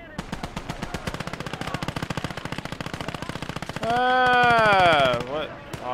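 Automatic rifle fire in a World War II war game rattles in a rapid, steady stream of close shots for several seconds, then gives way to a loud sustained tone and a voice.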